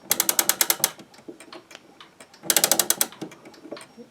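Stuart striking clock wound with its key: two quick bursts of loud, rhythmic ratcheting clicks, close up, separated by softer scattered mechanical ticks.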